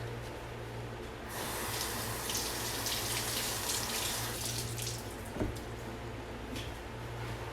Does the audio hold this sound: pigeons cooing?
no